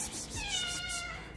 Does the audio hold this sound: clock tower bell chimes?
no